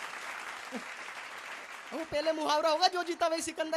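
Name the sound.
audience applause at a Hindi comedy poetry show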